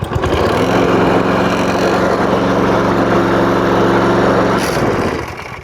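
A Briggs and Stratton Quantum lawn mower engine, freshly fitted with new rings, runs loud and steady at close range with a constant droning hum before winding down near the end.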